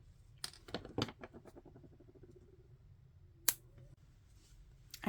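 Scissors snip through the yarn end of a two-strand crochet beanie, giving a few sharp, close cuts spread over several seconds in a quiet room with no talking.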